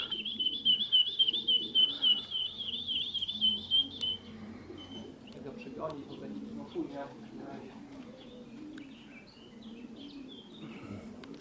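A starling's chattering, whistling call repeats for about four seconds, then people talk quietly with faint chirps and rustling in the background, as pigeons return to a loft.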